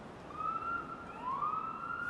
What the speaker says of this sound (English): Oh no, we already got the police sirens coming.